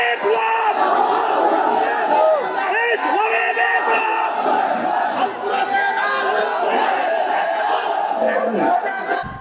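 At a religious gathering in Palashbari, Gaibandha, a large crowd roars Allahu Akbar in answer to a takbir call: loud, sustained massed shouting with rising and falling waves of voices and no pauses.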